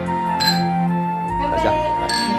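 Drinking glasses clink together several times in a toast during a dinner with traditional liquor, sharp light chimes over a steady background with a short lull between them.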